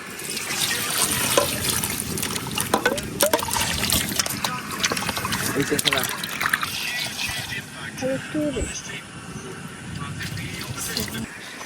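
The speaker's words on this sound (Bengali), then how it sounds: "এখন পরিষ্কার পানি দিয়ে ধুয়ে নিতেছি।" Water splashing and trickling as potatoes are rinsed in clean water in a basin, with scattered clatters and sloshing throughout.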